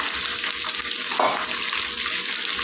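Pieces of ivy gourd, three quarters of a kilo, dropped into hot oil for a fry, giving a dense, continuous loud sizzle with a brief burst of crackling partway through; no talking.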